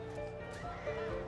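Horse whinnying with clip-clop of hooves, a night escape on horseback through Washington staged as a documentary sound effect; short, close and fairly steady, with a louder burst near the end.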